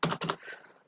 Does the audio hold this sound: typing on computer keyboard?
yes